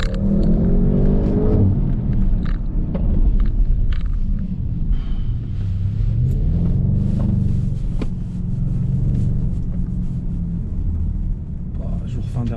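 A 2020 Audi RS6 drives past with a deep engine rumble and revving that rises and fades over several seconds, mixed with wind buffeting and people talking nearby.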